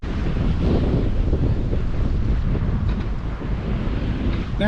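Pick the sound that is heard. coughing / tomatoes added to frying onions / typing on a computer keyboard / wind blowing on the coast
wind blowing on the coast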